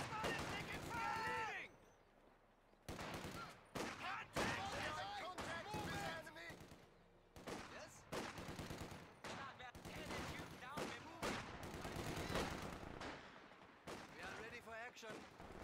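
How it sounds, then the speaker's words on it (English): Gunfire in a Company of Heroes 2 4v4 multiplayer battle, repeated rifle and machine-gun bursts with distant booms, mixed under frequent shouted unit voice lines. "Grenadiers, squad is taking fire!"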